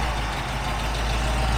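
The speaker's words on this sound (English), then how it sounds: "Let's fire it up, see if this belt can hold on long enough to tell us if that pump works" Ford F100 pickup engine running after a power steering pump swap, a loud, steady, rumbling idle close by with no talk.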